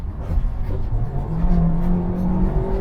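Hot hatchbacks, a Honda Civic Type R, MINI GP, Hyundai i30 N and Ford Focus ST, accelerating hard off the line in a drag race, engines revving and rising in pitch through the gears, loud and close with no talk.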